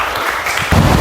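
Classmates in a classroom give a short burst of applause, dense clapping that swells louder toward the end of a single second.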